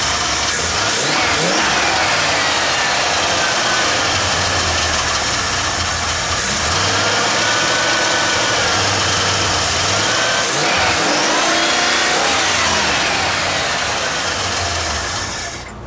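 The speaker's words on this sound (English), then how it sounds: "I don't know if it's that distributor that's kind of noisy." A carbureted Ford Bullnose truck engine revs repeatedly, rising and falling in steady bursts over a rough, loud idle, with no talking.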